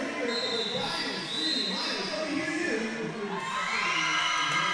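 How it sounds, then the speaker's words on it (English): Sirens fans in turn 1 at a racing event cheer and yell as a dense, steady crowd roar, with shrill screams and whoops rising through it, loud and continuous throughout. "We got all the Sirens fans down there in turn 1 making noise right now"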